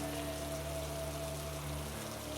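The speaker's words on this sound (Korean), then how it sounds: "다름 아닌 소나기였다." A rain shower pours steadily in a horror radio drama, a dense even hiss of falling drops with a low constant hum beneath, unbroken from start to finish.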